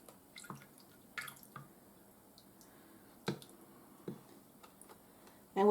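Liquid marinade from pineapple jalapeno chicken pouring and dripping out of a bottle, heard as a handful of soft, scattered drips and small splashes spread over several seconds, fairly quiet against a faint background.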